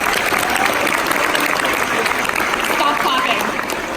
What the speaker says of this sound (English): Simon Says, clap your hands.